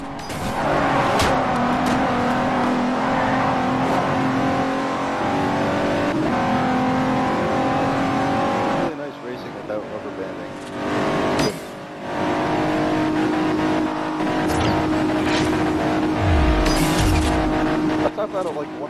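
Car engines rev and roar continuously in the racing video game Forza Horizon, loud and steady with shifting pitch, brief tire squeals and drops, while people talk over the game sound.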